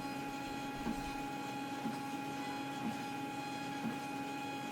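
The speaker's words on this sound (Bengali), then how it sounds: "আমি এখানে দেখাচ্ছি যে 10টা কপি দিচ্ছি। কত দ্রুত প্রিন্ট হয় এবং কত স্মুথ প্রিন্ট হয়।" A 4-inch thermal label printer runs off a batch of ten labels, giving a steady close mechanical whir under a faint tonal hum, with soft regular ticks roughly once a second as each label advances.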